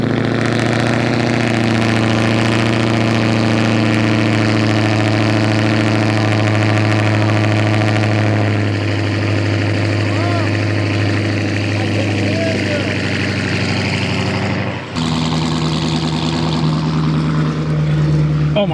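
A 2019 Ford Mustang GT with a loud modified exhaust idles close by, a deep steady rumble that holds throughout, shifting briefly partway, with people talking over it.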